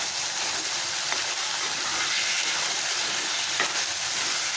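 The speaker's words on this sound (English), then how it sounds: "So as this is frying very well, I'll put in 2 teaspoons of ginger garlic paste, homemade." Homemade ginger garlic paste sizzles and fries in a pan for a South Indian kara kulumbu, a steady dense crackle throughout with a couple of faint stirring scrapes, no voices.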